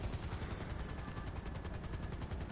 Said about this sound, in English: The rubbish helicopter spawned in anyway